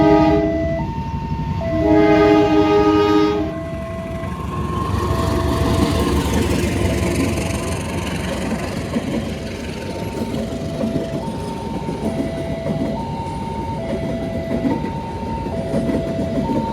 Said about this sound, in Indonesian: Kereta api Logawa dari Purwokerto tujuan Ketapang.